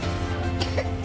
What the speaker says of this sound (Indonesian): Lu lagi batuk ya.